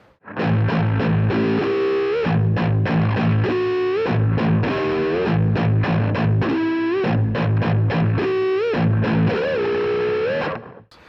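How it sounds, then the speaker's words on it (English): Heavily distorted electric guitar through a JHS Andy Timmons distortion pedal plays chugging chords and bending lead notes, loud and continuous, with no talking. "it's what you might call an amp in the box type guitar pedal"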